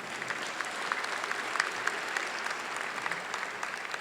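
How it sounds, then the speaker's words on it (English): Steady applause and hand clapping from an audience at a Syracuse University iSchool convocation, a dense, even patter of many hands filling the hall at moderate distance without any talk over it. "some claps, hand claps up there."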